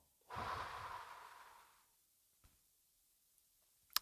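A single close, audible breath, a drawn-out exhale of about a second and a half in a quiet room, followed by near silence and a faint click at the end.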